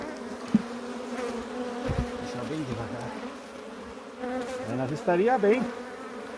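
Honey bees buzz around an opened hive, a steady close insect drone that persists throughout while someone speaks briefly over it.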